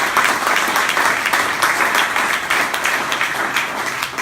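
An audience at a community newspaper's tenth anniversary event breaks into steady, dense applause, many hands clapping continuously at an even level throughout.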